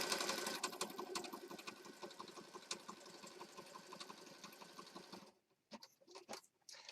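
An electronic sewing machine set to stitch length and width 2 rattles in fast, steady bursts as it stitches layered junk journal pages, running close and continuously before stopping, followed by a few faint taps.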